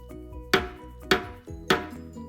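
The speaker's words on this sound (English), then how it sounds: "The crowd stomps and chants" Three heavy, evenly spaced stomping thuds from a concert crowd in a Pete the Cat story, each one sharp and booming with a short decay, over a soft musical backdrop.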